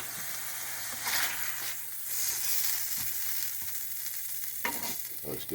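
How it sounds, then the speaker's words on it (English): Sausage sizzles and crackles steadily in a frying pan just after being flipped, a constant close hiss with occasional louder pops and scraping stirs, no voices. "Ooh, let's flip our sausage."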